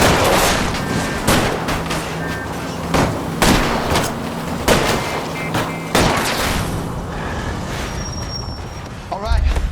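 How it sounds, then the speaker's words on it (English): Gunshots fired at a fleeing car's tires during a chase in the video game L.A. Noire, repeated loud cracks over engine roar and road noise, with voices talking throughout. "I'll try to shoot out his tires."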